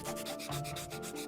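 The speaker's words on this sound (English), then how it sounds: "we took a piece of sandpaper and worked with it until we revealed clean metal" Sandpaper worked by hand over a rusty metal wrench to clean it: a close, continuous rhythmic rasping scrub with quick back-and-forth strokes, heard alone.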